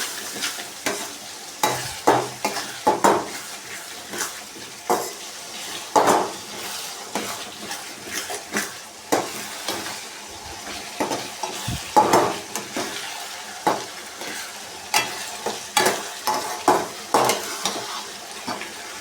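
A spoon stirs onion rice with garam masala in a hot pan, giving repeated scraping and clinking strokes over a soft, steady sizzle, fairly close and without voices.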